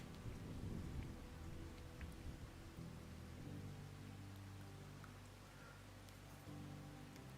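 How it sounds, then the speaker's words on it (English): Rain and thunder in the video game Farming Simulator 22: an even wash of rainfall runs through the whole stretch, with a low thunder rumble early that fades into steady drizzle, quiet overall. "I think it's raining or hailing on the map."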